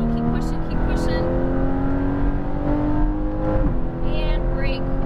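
Porsche 718 Cayman GTS accelerating hard on a race track, a steady rising engine drone heard from inside the car, with a driving coach talking over it.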